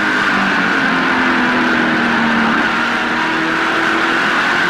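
NASCAR Canadian Tire Series stock cars race around the track in the 2009 Z-Line Designs 250, a loud, steady roar of engines with a pitch that rises as one car drives hard into the lead, no voices on top.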